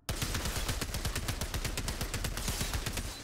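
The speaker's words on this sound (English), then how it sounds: "That's an assault rifle." Sustained full-auto assault rifle fire in the game Outriders, a steady, loud run of evenly spaced sharp shots continuing for over three seconds without pause or talk.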